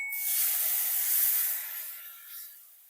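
Ground coconut paste for a spicy fish aviyal hits a hot pan with a loud, steady sizzling hiss that holds for a couple of seconds, then eases and fades toward the end.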